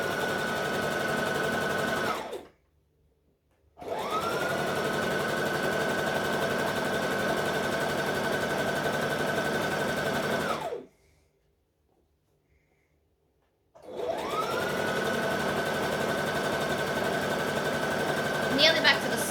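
A sewing machine stitches a dress in three long, steady whirring runs separated by abrupt silent pauses, each run starting with a rising motor pitch; a voice is heard around the stitching.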